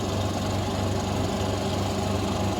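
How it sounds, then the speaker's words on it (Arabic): A washing machine with a faulty spin dryer runs heavily, its motor and drum giving a steady low droning hum with a faint rhythmic throb, close and continuous throughout. "الفراكه كدور ثقيله وفيها مشكل تاع النشاف تا هو كيدور ثقيل"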